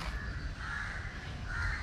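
Crows cawing repeatedly over steady outdoor background noise at the Tirupati safari park, with calls rising and falling across the short stretch and no talking.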